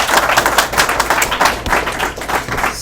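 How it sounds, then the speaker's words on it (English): An audience claps loudly and continuously for a beginner-built walking spider robot, a dense, even patter of many hands close by for the whole stretch. "I hope you all clap for me"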